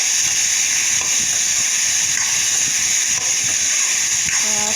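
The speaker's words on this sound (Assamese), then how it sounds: "নিমখ হালধি দিয়াৰ পিছত ধুনীয়াকৈ ভাজি ল'ম" Food sizzles steadily in a hot pan after salt and turmeric go in, a constant hissing fry with faint clinks near the end and no speech.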